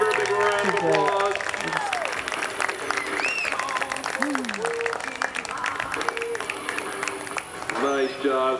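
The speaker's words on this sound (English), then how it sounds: "give her a big round of applause" An audience applauds a young rider after her run at a horse obstacle challenge, clapping steadily while cheers and whistles rise above it and voices call out nearby.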